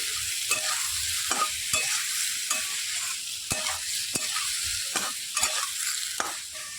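Spices and potatoes sizzle steadily in a hot pan while a spoon scrapes and stirs in sharp, irregular knocks.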